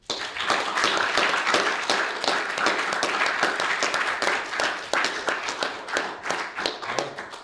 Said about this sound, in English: could we please give a round of applause to all the speakers?